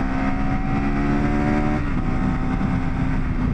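A KTM 390 Adventure R motorcycle pulls from about 50 to 70 under steady throttle, its engine tone climbing through the first half before a brief shift-like dip, amid constant roaring wind noise.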